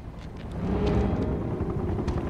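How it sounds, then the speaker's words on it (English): Helicopter in the video game Uncharted 2, a low, throbbing rotor chop with engine rumble that swells slightly and holds steady at moderate loudness, with no voices. "Not another helicopter."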